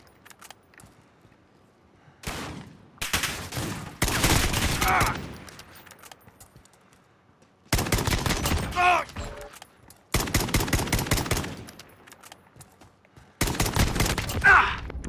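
SKS semi-automatic rifle fire in Call of Duty Modern Warfare, coming as bursts of rapid, closely spaced shots in several separate strings between quiet gaps, loud and close.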